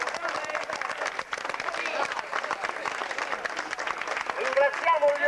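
Applause from a crowd at a medal presentation during a 1996 memorial sports event in Buccheri, Sicily, as a team captain receives his medal; steady dense clapping throughout, with voices mixed in.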